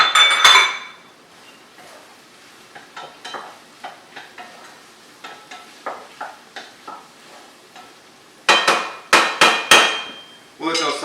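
Peppers and mushrooms are tossed and stirred in a pan with a utensil, giving sharp, irregular metallic clanks and scrapes, loud and near, with quieter stretches between bursts and no speech.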